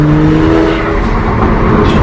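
BMW 335is engine on a canyon run, a steady loud drone of engine and road noise holding a constant note close by, with no clear rise or drop in revs.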